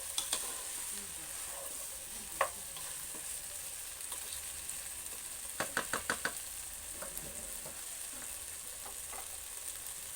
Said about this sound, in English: So guys, my vegetables are still cooking.